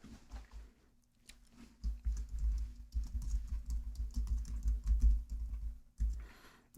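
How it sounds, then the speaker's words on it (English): Typing on a computer keyboard, a close, steady patter of key clicks with brief pauses, running continuously without speech. "we're going to type in the name of the company"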